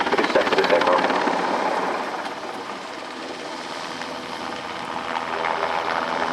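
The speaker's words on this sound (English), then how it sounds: "So the aircraft will be hovering to the left and right at about 35 knots" A German Air Force NH90 helicopter hovers at an air display at RIAT 2025, its loud, steady rotor and turbine roar filling the air and easing slightly midway before building again.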